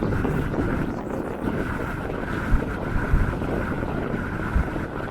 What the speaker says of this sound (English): And the wind is about 20 miles an hour